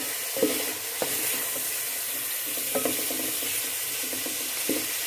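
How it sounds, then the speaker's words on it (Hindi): Boiled mutton frying with spices in a pot for palak gosht, a steady close sizzle broken by several clattering stirs and scrapes of a spoon against the pot, with no voices. "पाँच मिनट हम गोश्त और मसालों की अच्छे से भुनाई कर लेंगे"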